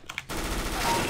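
MP9 submachine gun firing in Counter-Strike: a short, loud automatic burst cutting in after a brief quiet start, with no talking over it.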